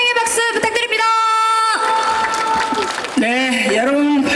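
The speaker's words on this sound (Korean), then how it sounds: "여러분 환영의 박수 부탁드립니다." A large crowd at a ceramics marathon event applauds and cheers to welcome a speaker, loud and sustained, with a voice over a public address system and tonal music or sound effects sounding over the crowd noise.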